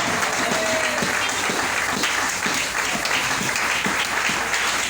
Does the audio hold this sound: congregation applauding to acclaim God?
yes